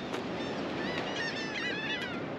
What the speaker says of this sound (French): Oh, là on a plein d'oiseaux, des frégates, des mouettes.